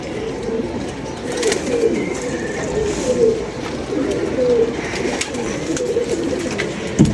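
Pigeons coo nearby in soft, repeated throaty bursts that come in a loose rhythm over a low, murmuring background.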